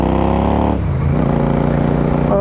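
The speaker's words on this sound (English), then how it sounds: "Oh man, this exhaust is just so good." A Royal Enfield Super Meteor 650 motorcycle on a highway, its exhaust loud and close with a deep, steady drone. The pitch drops briefly as it shifts gear, then climbs again under acceleration.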